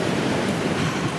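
Sea waves washing against a slow boat heading straight into the swell off Skopelos, a steady close rush of water with wind noise on the microphone and no speech.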